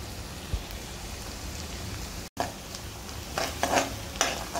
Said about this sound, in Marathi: कांदा आता फ्राय होत आलेला आहे जरा चांगला